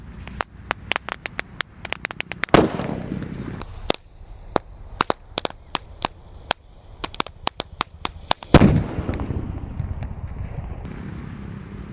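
A jumbo pink-fused firecracker sputters with a long run of sharp crackling pops, then bursts in two loud, booming blasts a few seconds apart, each trailing off in a rumbling, wind-buffeted echo outdoors.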